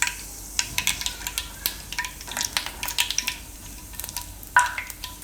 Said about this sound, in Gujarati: રાઈ બધી લગભગ ફૂટી જવા દેવી પડે